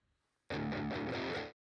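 An electric guitar played through GarageBand's Large Tweed combo amp simulator rings out as a single loud, gritty, distorted strum lasting about a second, starting abruptly after brief near-silence and cutting off cleanly.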